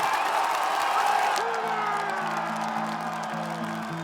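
A large crowd cheering and whooping at a political election rally in Gateshead, a loud roar at first that fades under a steady sustained tone in the second half.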